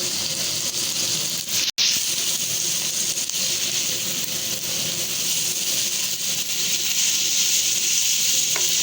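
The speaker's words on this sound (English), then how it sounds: "We will saute it for like 5 minutes" Cabbage sautéing for restaurant-style Chinese fried rice, a loud steady sizzle and hiss from the pan held throughout, broken once by a brief sharp cut.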